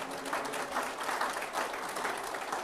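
Audience applause at a talk on George Washington's farewell, steady dense clapping from a crowd that holds evenly throughout without pause.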